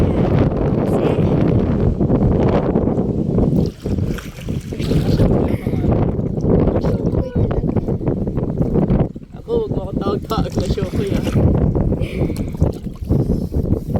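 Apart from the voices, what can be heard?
strong wind while rowing a boat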